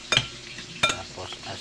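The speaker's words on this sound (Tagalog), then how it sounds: "Yan, kamatis at saka sibuyas. Halo." Chopped tomato and onion being mixed for kinilaw na labanos, two quick close scraping stirs of utensil against bowl with a faint pause between.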